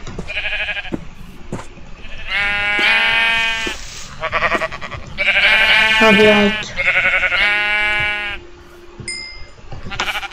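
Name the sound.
sheep bleating in the video game Minecraft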